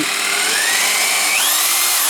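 A Bosch GSB impact drill runs steadily and loudly for about two seconds, its high motor whine rising slightly in pitch partway through, with no talking.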